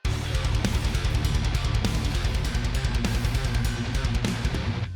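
Heavy distorted electric guitar chugs a low riff, broken up by ringing higher notes on syncopated, off-kilter rhythms.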